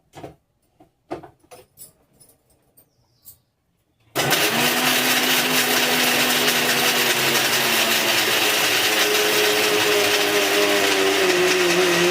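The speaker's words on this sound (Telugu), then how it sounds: "వీటిని మనం మిక్సీ జార్లో వేసుకుని మిక్సీ పెట్టేసుకోవాలి" A few light clinks and taps, then a mixer grinder starts up loud grinding coconut and whirs continuously at a steady high pitch.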